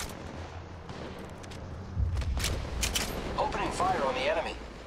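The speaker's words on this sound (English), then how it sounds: "The enemies are shooting at me." Enemy gunfire in the mobile battle royale Apex Legends Mobile, with sharp shots crackling over a busy game soundscape, growing denser in the second half while voices and game chatter run beneath.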